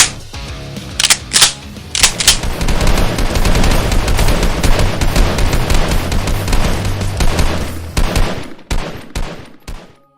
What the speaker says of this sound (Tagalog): Mga putok ng barel.